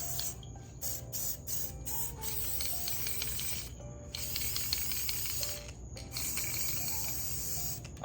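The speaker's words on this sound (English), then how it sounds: "I don't really have a technique for spray painting." Gold spray paint hisses onto pumpkins in a series of close, uneven bursts, some short and quick and others longer, with brief pauses between them and a low hum underneath.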